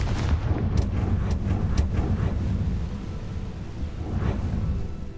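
A Confringo fire spell blast in the Hogwarts Legacy video game, heard as a steady loud rumbling roar with a few sharp crackling hits over the top, continuous throughout.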